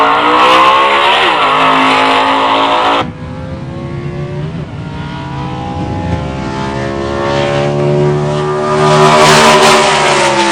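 A 1966 Chevrolet Impala muscle car roars at a drag strip, its loud engine note climbing steadily through the gears, with a sharp drop partway through before the revs build again toward a strong finish.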